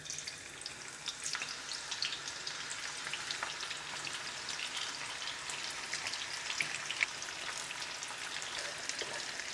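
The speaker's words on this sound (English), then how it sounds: "once it's hot, add the onions and cook for a good 10-15 minutes" Onions fry in hot sunflower oil in a pan, a quiet, even crackling sizzle with scattered tiny pops, steady throughout and heard alone with no voices.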